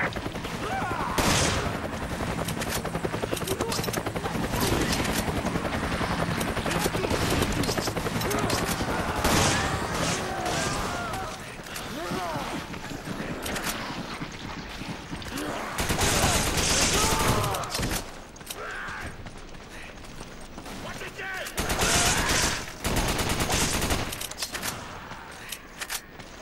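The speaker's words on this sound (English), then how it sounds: "Gunfire." Sustained gunfire from the video game Resident Evil 5 in versus team multiplayer runs nearly throughout, with dense bursts and louder volleys under occasional voices.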